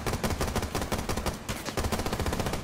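Rapid automatic gunfire fired through a wall in Rainbow Six Siege rattles in loud, close bursts of repeated shots with brief gaps, dominating the mix without voices.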